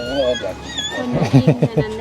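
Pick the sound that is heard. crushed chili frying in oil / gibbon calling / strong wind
gibbon calling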